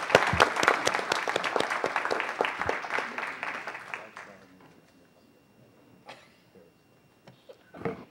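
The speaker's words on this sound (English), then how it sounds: "Everyone, please give them a round of applause." Applause from a council meeting audience, loud and dense at first, then thinning out to a few scattered claps.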